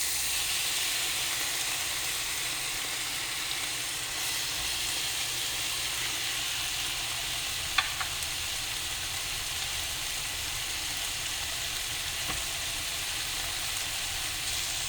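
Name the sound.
tomato and okra sizzling in frying pan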